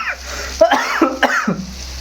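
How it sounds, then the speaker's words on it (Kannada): A person coughs in a few short, harsh, close bursts after tasting homemade gooseberry pickle, with brief pauses between them. "ಅದಕ್ಕೆ ಕೆಮ್ಮು ಬರ್ತಾಯಿದೆ."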